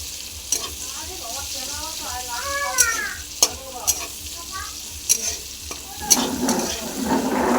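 Onions frying in a pan, a continuous sizzle with occasional sharp taps of a stirring spoon, while a cat meows repeatedly nearby and the frying swells louder at the end.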